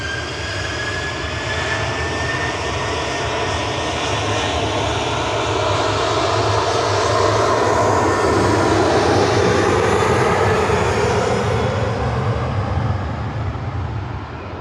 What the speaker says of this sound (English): This is Ryanair departing now, heading off to port